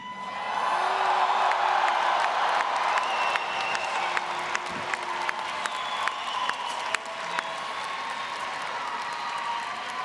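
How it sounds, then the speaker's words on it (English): Graduates cheering at a Georgia Tech fall commencement ceremony, a large hall crowd roaring with whoops, shouts and applause that swells quickly and holds steady, with scattered sharp claps and occasional high whistles. "please rise and cheer like you mean it"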